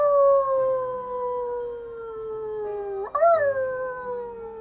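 A person howls on request during a game stream, imitating a dog or wolf with a long, loud, sliding howl that drops slowly, then breaks and rises again near the end, heard alone without talk.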